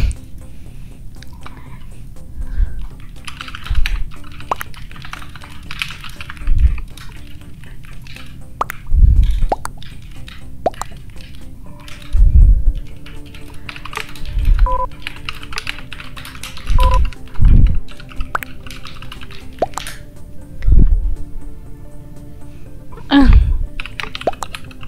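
A computer keyboard is typed slowly, with sparse, uneven clacks and soft thumps spread across a quiet background hum and no voices.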